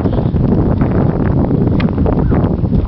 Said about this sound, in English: any residual noise you hear, it's breezy here today